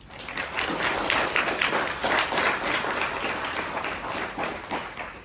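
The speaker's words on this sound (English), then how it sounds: "So if we can give them a round of applause." Clapping from attendees at a student senate meeting, welcoming newly appointed senators; dense, steady applause from a modest group, close and continuous throughout.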